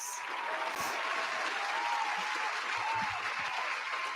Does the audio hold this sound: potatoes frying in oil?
no